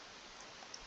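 A computer mouse clicking once, faint and close, near the end of a quiet stretch with only a low background hiss.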